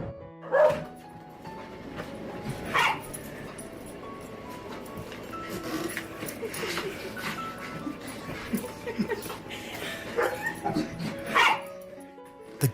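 Dog greeting a soldier home from a year in Afghanistan, excited yips, whimpers and barks in irregular bursts near by, mixed with human voices and emotional sounds.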